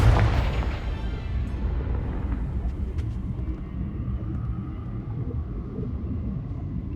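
Confringo fire spell from Hogwarts Legacy exploding in a deep booming blast at the start, followed by a long rumbling decay and faint distant crackles, with no voices.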